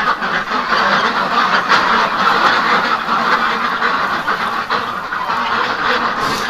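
A flock of ducks quacks continuously, a busy overlapping chatter of calls close by with no pauses.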